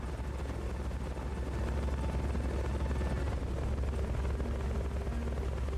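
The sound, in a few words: helicopter in Metal Gear Solid: Peace Walker video game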